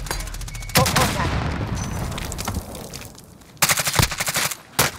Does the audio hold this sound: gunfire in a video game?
yes